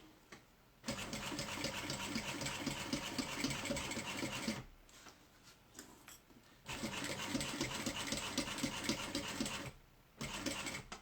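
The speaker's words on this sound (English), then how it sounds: "About where I'm going to sew this." A sewing machine stitches a mini backpack in two long, steady runs of rapid motor-driven needle chatter, loud and close, separated by brief pauses and a short burst near the end.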